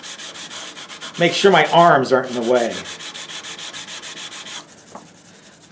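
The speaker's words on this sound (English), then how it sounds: "we're just going to use some 220 sandpaper on a block" Close-up sanding of a replacement guitar neck heel with 220-grit sandpaper wrapped on a block, a steady rhythmic scrubbing that swells loud in the middle strokes, then eases to a faint rubbing.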